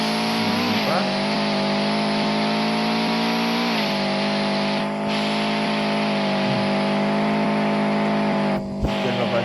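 A slow car driving in the video game Car Dealership Tycoon, a steady synthetic engine drone held at a constant pitch that shifts slightly now and then, loud and continuous throughout.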